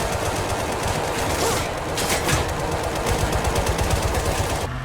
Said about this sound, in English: We're under heavy fire from all directions.